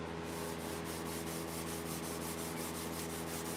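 A Scotch-Brite pad rubs steadily over an old metal square, giving it a satin finish after wire brushing; a continuous close scuffing hiss with faint regular strokes and a low background hum, no talk.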